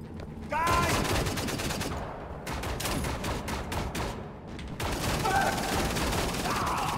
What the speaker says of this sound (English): How are these marksman rifles?